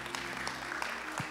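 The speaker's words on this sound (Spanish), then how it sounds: "Un aplauso a Cristo por eso." Congregation applauding for Christ during a church service, a short burst of scattered, fairly faint clapping with a few sharper individual claps standing out.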